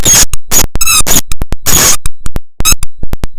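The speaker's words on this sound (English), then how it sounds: "she would like nothing more to take this squeaky toy and eviscerate it and take the squeaker out of it" A dog's squeaky toy squeaks loudly and repeatedly in quick, uneven bursts, some shrill and drawn out, others short and sharp, close up with no talking.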